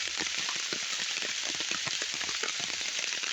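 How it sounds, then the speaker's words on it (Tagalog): Heavy rain pours down steadily, a dense hiss of drops pattering on a nearby surface with no other sounds. "Grabe, inabot kami ng malakas na ulan."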